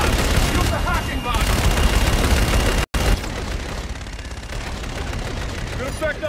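Rapid, sustained gunfire from a new weapon in the video game Call of Duty: Infinite Warfare, loud and dense with explosive booms, broken by a momentary cut to silence about midway.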